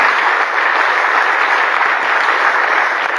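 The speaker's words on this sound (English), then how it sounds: "Clap for Jesus Christ, hallelujah" A church congregation at a prayer meeting claps steadily for the whole stretch, a dense, continuous wash of many hands at a loud, even level with no voices over it.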